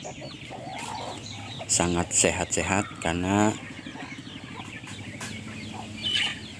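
Free-range village hens mixed with young day-old chicks on a small farm cluck in loud bursts, with a voice speaking over the calls throughout.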